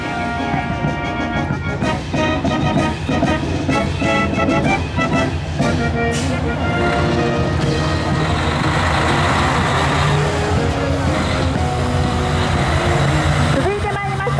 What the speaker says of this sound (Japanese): 偵察警戒車です。